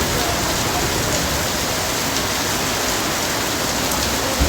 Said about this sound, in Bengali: অনেকদিন পরে এত বৃষ্টি দেখলাম